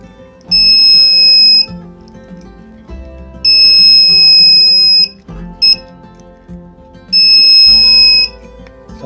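Buzzer on an MQ135 gas alert alarm school demonstration kit sounding loudly in three repeated shrill electronic bursts of roughly a second or more each, with short gaps and faint clicks between them, close up.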